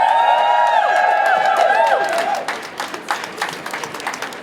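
Applause and cheering from a crowd at an outdoor healthcare workers' protest in San Francisco, a loud burst of clapping and whoops that thins into scattered claps over several seconds.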